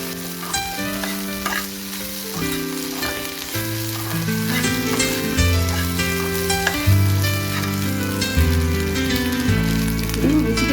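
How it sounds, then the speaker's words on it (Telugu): Egg frying in a home kitchen pan, Andhra style, giving a loud, continuous crackling sizzle that runs steadily throughout, with musical tones playing over it and no talking. "బాగా ఫ్రై చేసుకోవాలి ఈ విధంగా"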